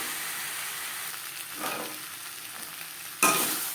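Potato pieces frying with spices in a pan, a soft continuous sizzle with occasional scraping stirs and a sharper hiss near the end as the food is moved.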